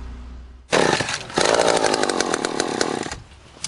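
A chainsaw catches and roars to life, loud and close, its engine revving unevenly before dropping back toward idle.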